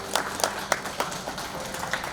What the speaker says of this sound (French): Une annonce qui lui a valu les acclamations de l'ensemble des personnes présentes.